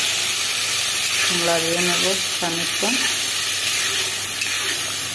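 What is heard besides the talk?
potatoes sizzling in pan with turmeric, cumin and salt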